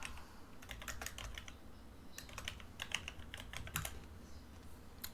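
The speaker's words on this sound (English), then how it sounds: "bad typing on my part." Rapid, uneven bursts of typing on a computer keyboard, close and clear, with clustered keystrokes separated by short pauses and no talking.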